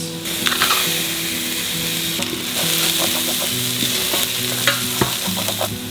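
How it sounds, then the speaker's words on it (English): Onion and garlic frying in a pan, a loud, close, continuous sizzle with occasional scraping and stirring clicks, no voices. "fry onion, garlic, of course,"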